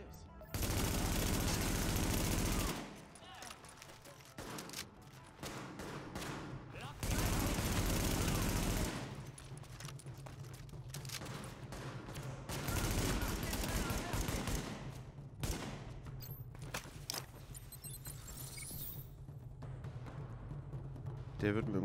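Dense bursts of gunfire from a cover-shooter firefight in Tom Clancy's The Division, loud volleys in stretches with quieter gaps, under someone talking.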